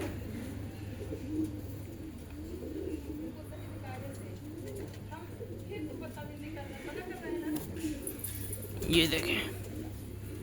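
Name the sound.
pigeon cooing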